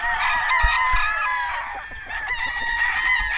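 A gamecock rooster crows loudly and close in a yard of corded birds, its drawn-out call filling the clip, with other fowl audible in the background.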